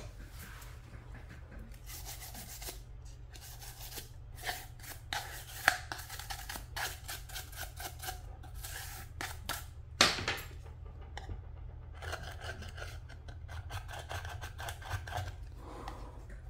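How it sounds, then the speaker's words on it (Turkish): Scraping and rubbing at the edges of a Samsung J260 phone frame while it is cleaned during a screen replacement, a steady run of small scratchy strokes with a sharp click near the middle, fairly quiet with no talking. "Ve şu an temizliğini yapıyorum kenarların."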